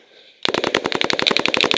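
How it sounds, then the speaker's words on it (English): A quick burst of gunfire rips out at close range after a brief hum. The sharp shots come in fast succession and sound more like a sustained rapid string than just three rounds. "Dan, dump three rounds really fast"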